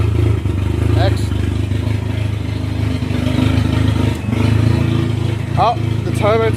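A turbocharged Honda Civic engine idles loudly and steadily nearby with a deep, constant drone, joined by a few brief chirps and clatters.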